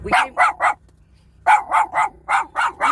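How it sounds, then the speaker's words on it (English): A dog barks in quick sets of three, loud and near, with a short pause between the groups and no talking. "she's barking at everybody"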